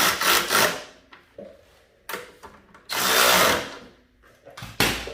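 A ratcheting wrench works screws on a snowblower carburetor during a tune-up, producing several loud, close bursts of rapid ratchet clicking separated by short pauses.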